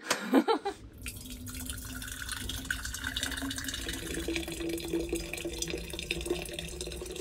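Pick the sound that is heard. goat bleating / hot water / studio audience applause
hot water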